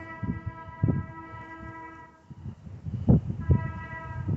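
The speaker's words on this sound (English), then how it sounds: "There's another train comes down the tracks." A train rolls along the tracks near an old ghost town, its horn sounding in long steady tones while low rumbling and clanking come through in bursts, moderately loud and fairly close.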